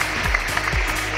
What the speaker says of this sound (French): Merci, la chasse d'eau.